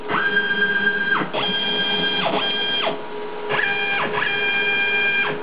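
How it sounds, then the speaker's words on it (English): A CNC mill spindle is switched on and off several times in quick succession, each start a rising electronic whine and each stop a falling one, close and fairly loud. "I can turn on the spindle, turn it back off again"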